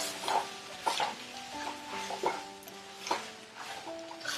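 Char kway teow stir-fried in a hot pan with a soy mixture, a steady sizzle broken by regular scraping strokes of a spatula against the metal, close and fairly loud, with no talking.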